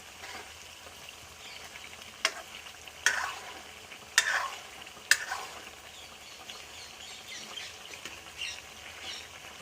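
Turmeric curry being stirred in a kadai, with a few sharp scraping strokes of the spoon against the pan over a low, steady sizzle of frying.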